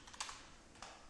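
Light tapping on a computer keyboard, a few faint quick keystrokes in a quiet room, with no voices.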